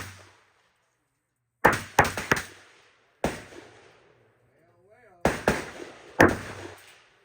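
Gunshots at an outdoor gun range: about six sharp, loud reports in irregular pairs and singles, each with a short fading echo, separated by near-silent gaps, with faint voices between shots.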